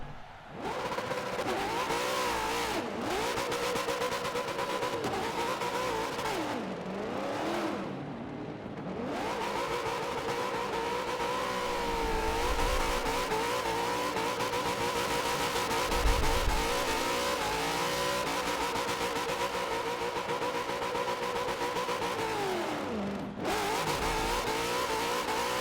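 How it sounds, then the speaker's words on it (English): A VASC race car, the winner, does burnouts on the front straightaway after a WRL Dollar General Clash 2020 race, its engine revving loudly and continuously with rising and falling pitch and tire squeal, close and sustained with no talk. "Paul Massey is going to come to the front straightaway to do burnouts"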